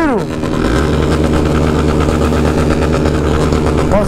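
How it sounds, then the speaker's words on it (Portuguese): Many motorcycles in a convoy roll past close by, a loud continuous engine roar with revving rises at the start and end, and voices faintly underneath. "E olha o tanto de moto que tem aí."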